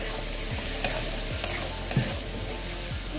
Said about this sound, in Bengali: একটু জল দিয়ে এটা কষিয়ে নেব